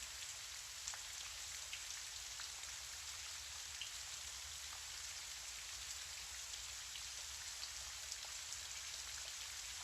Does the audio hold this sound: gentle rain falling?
yes